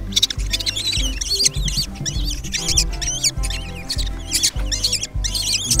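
Shrill, rapid chirping and squealing from kestrel chicks being handled, loud and close, almost continuous with rustling and handling noise underneath.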